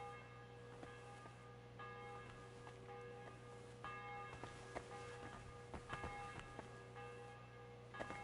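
Church bell tolling in a video game, resonant ringing strikes repeating over a steady low hum, moderately distant and fairly quiet, with scattered faint clanks and no speech.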